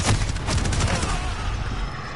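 Rapid gunfire in the video game Call of Duty, a dense burst of overlapping shots up front that thins into a rumbling, echoing tail.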